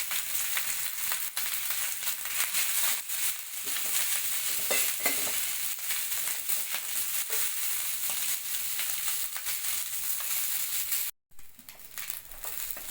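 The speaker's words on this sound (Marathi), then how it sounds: "हा आता आपला भात घालून आपण ही फोडणी सगळी एकजीव करून घेणार आहोत" Cooked rice being stirred into a coconut rice tempering in a pan, a soft continuous sizzle with light scraping and shuffling strokes throughout, close and steady, cutting out briefly near the end before resuming.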